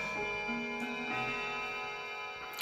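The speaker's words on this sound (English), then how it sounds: "it's a chiming clock" Chiming clock in a quiet room, faint and steady, with soft ticking and sustained ringing tones that linger and fade across the short stretch, no voices over it.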